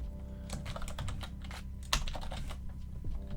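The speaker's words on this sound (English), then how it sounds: "And in here, I'll just type in" Fast typing on a computer keyboard, a close, steady stream of light key clicks with one sharper key strike near the middle, no talking.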